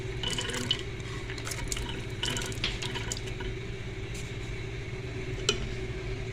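Soaked lentils for achari dal tipped into a pot of water, giving a steady wet sloshing and pouring wash with a few brighter splashes and drips, close by and fairly quiet.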